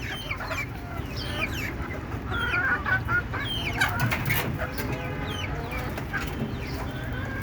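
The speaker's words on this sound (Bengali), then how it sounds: "এখানে আমি দেশি মুরগি পালন করতেছি আজকে অনেকদিন যাবৎ" Free-ranging native country chickens cluck and chatter around a farmyard, several birds at varied distances with scattered higher calls over a busy outdoor background.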